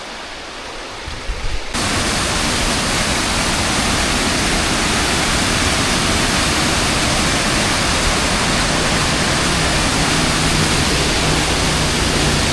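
A waterfall at Little Egypt, Tennessee, pours as a loud, dense, unbroken rush of falling water that swells in after a quieter first moment and then holds steady, near and alone.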